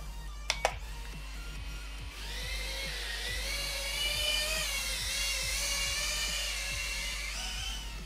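Tiny BetaFPV Beta65X whoop drone motors spinning up indoors, a high, steady whining buzz with shifting pitch that starts after a couple of brief clicks and runs continuously and loud to the end.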